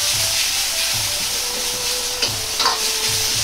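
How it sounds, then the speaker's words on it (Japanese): Bean sprouts stir-fry over high heat in a wok for moyashi soba, a continuous loud sizzle and hiss with faint clinks of the utensil and a low rhythmic burner hum beneath. "煮たり煽ったりせず、じっくりと炒めていきます。"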